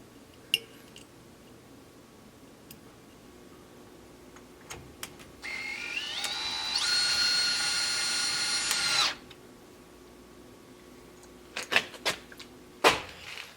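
A power drill whirs up for about four seconds, rising in pitch before cutting off, with scattered clicks and knocks before and after in a quiet room.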